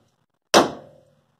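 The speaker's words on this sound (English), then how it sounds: "if you take a couple of hammers and hit it on both sides that the stud goes through" Two hammers strike the sides of a steering knuckle on a Mopar A-body during a disc brake conversion to free a stud, giving a single sharp, close metallic clang that rings and decays within about half a second.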